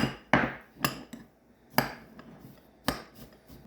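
A spoon stirs Parmesan cheese into lobster mac and cheese in a pot, making several sharp metallic clinks and knocks at an irregular pace, close and clear.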